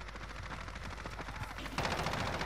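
Rapid automatic gunfire in the Call of Duty Modern Warfare video game, a dense rattling stream of shots at moderate volume that grows louder and harsher toward the end.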